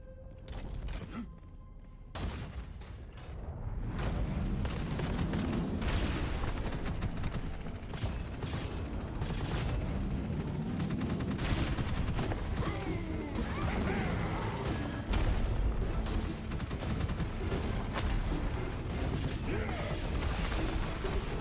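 The Tiger Cannon weapon in the shooter game Gunfire Reborn fires a dense, sustained barrage of heavy shots and impacts that runs nearly continuously, loud and close.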